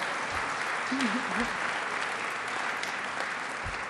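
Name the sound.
audience applause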